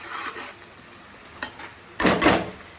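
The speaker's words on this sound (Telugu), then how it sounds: "ఇప్పుడు ఈ ఉల్లిపాయలు అయితే చక్కగా బ్రౌన్ కలర్లో వేగిపోయింది కదండి" Onions browned in a pan for a country mushroom curry give a faint, steady sizzle, broken by a brief scrape and then a louder burst of stirring and frying near the end.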